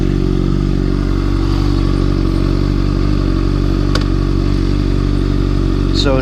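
A 2013 Honda CBR600RR engine idles steadily and loudly up close, a dense constant low rumble with a brief rev-like rise near the end.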